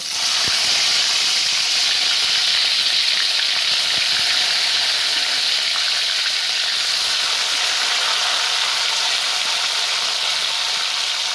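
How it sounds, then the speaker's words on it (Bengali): Prawns lightly frying in hot mustard oil in a pan, a loud, steady hissing sizzle held at an even level from start to finish, with no talking. "তেল গরম হয়ে গেছে, এবার আমি মাছগুলো হালকা করে ভেজে নেব।"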